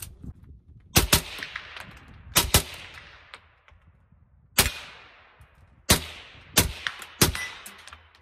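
Single rifle shots from a Faxon 11.5-inch rifle crack out in loud sharp bursts, some in quick pairs, with short echoing tails and quiet gaps between them.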